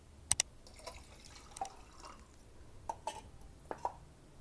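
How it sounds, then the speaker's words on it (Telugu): Water goes into Mysore bajji batter in a few faint, scattered drips and small plops against a quiet background. "ఇప్పుడు నీళ్ళు వేసుకోవాలండి."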